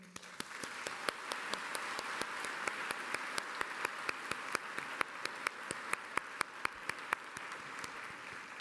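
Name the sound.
graduation ceremony audience applause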